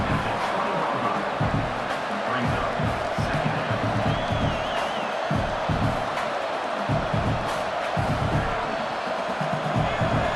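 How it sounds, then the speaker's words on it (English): Stadium crowd roaring steadily behind the defense in a college football video game, LSU against Clemson, a dense sustained wash of cheering with scattered whoops and thumps, continuous throughout at full volume. "The crowd getting behind this defense as they try to get a stop in the red zone."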